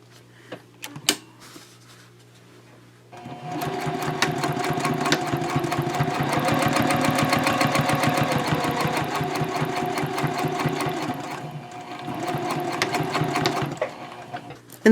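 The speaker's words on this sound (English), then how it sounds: "I'll go ahead and sew the other side of it." A sewing machine stitches the side seam of a fabric messenger bag, running in a steady, close mechanical chatter for about ten seconds after a few quiet handling taps, with a brief slowdown near the end before resuming.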